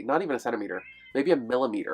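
A house cat meows briefly beneath steady close talking, its call mostly masked by the speaker's voice.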